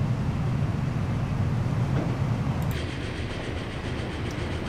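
Train running in the Transport Fever video game, a steady loud rumble of wheels and rolling stock with a brief high squeal partway through, no talking.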